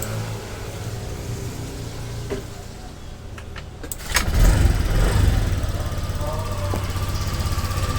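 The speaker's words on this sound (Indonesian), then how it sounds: "Lalu kita nyalakan motornya." A motorcycle engine is cranked and fires up partway through, settling into a steady, fairly loud idle after a quieter stretch of background noise and faint clicks.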